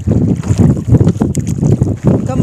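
A slow rowboat moves across water near the mangrove forest at Pichavaram, Tamil Nadu, with a rhythmic, close splashing and sloshing against strong wind buffeting the microphone.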